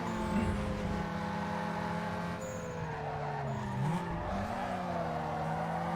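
In Need for Speed Underground 2, a race car on nitrous roars close and loud without a break. The engine pitch climbs and drops through gear changes, and tires squeal and skid briefly near the middle.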